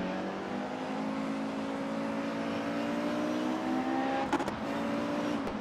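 Race car in a racing sim, Mercedes-AMG eRacing event, engine droning steadily with rising harmonic whine as it turns into a wide hairpin, brief gear-shift bursts near the end, no speech.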